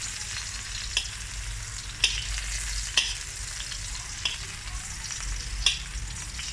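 Beef tenderloin steak fries in a home pan with a steady, loud sizzle, broken by several sharp spits and pops as fat crackles.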